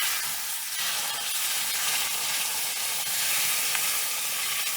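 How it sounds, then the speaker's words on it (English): Sooji semolina and nuts roast in a hot pan, giving a soft, steady sizzle and hiss at low volume throughout, with faint scraping of stirring and no talking. "It has started roasting, and I've started getting that aroma of the roasted rava."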